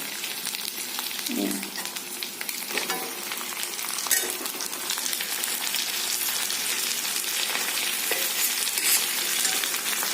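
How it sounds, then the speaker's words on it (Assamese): Steady, dense sizzling of meat frying with potatoes and onions in hot oil, with occasional scraping and stirring clatter; no voices. "গেছটো এতিয়া বঢ়াই দি ইয়াতে মাংসখিনি দি দিওঁ।"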